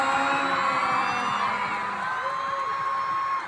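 A concert audience at a KinnPorsche World Tour 2023 fan event cheers, whoops and claps for the families of the guests, a loud dense crowd roar holding steady throughout with some talk mixed in.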